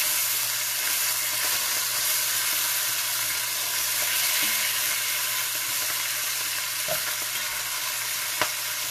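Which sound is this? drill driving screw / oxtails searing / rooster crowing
oxtails searing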